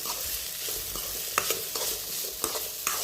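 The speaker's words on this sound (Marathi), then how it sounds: "आता हे व्यवस्थित आपल्याला परतून घ्यायचं आहे।" Mixed vegetables seasoned with chilli powder and salt sizzle in a pan under repeated stirring, with sharp spoon scrapes landing every half second or so over a steady frying hiss.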